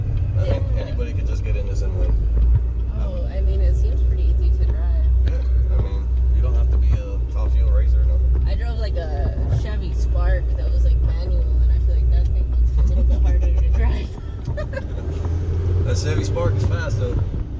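A 1000+ horsepower Z06 Corvette doing a burnout, its engine holding a loud, steady low roar for about fourteen seconds before dropping off briefly and picking up again, with voices talking faintly underneath.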